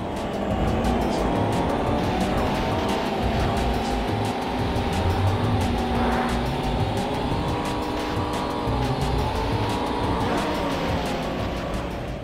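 Steady, loud engine drone of cars racing in the PS1 video game Rollcage Stage 2, rising and falling in pitch as the vehicles accelerate, with a brief squeal midway and constant rumble throughout, no voices.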